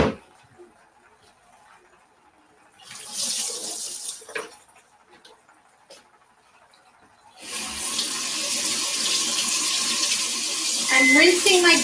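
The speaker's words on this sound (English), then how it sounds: "I'm rinsing my beans." Tap water runs into a small colander as beans are rinsed, a steady broadband rush that starts and stops, with a brief burst of flow early on before a longer continuous stream near the end.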